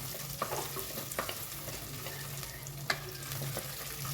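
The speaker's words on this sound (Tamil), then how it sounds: "பூண்டு தட்டி போட்டுருக்கேன் வரமிளகாய் ஒரு அஞ்சாறு மிளகாயை விதைய எடுத்து போட்டுக்கோங்க இது நல்லா வதங்கட்டும்" Crushed garlic and dried red chillies frying in oil in a clay pot, with a soft, low sizzle and a few scraping stirs, fairly quiet and close, no talk.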